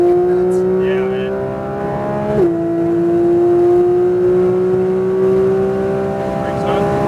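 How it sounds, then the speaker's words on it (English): A Porsche 992 GT3 engine revs hard on a track, its steady high-pitched tone climbing, dipping briefly as it shifts, then climbing again, loud and close from inside the car. "This engine is freaking nuts."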